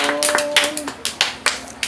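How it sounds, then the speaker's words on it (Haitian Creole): A small group claps for Winnie in an irregular, loose rhythm of roughly a dozen sharp, close hand claps, with a voice briefly heard at the start. "On applaudit Winnie."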